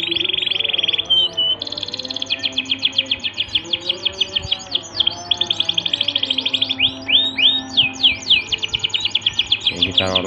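A young munia chick (emprit) chirps and squeaks insistently while being hand-fed, a fast, steady run of shrill close-up calls with repeated sharp twitters throughout.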